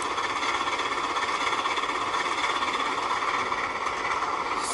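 A train locomotive under throttle in the Trainz driving simulator gives a steady, loud mechanical drone with a rhythmic rolling clatter, unbroken and with no voices.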